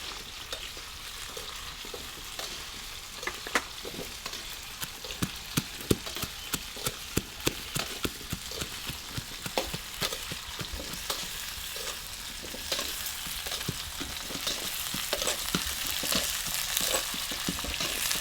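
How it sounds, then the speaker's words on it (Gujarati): Raw peanuts rattle and fry in a pan as they are stirred for an onion curry, giving a dense crackling sizzle with many quick ticking pops that grows busier toward the end, steady and close with no talk. "હવે આપણે આ સિંગના દાણા નાખી દઈએ કાચા"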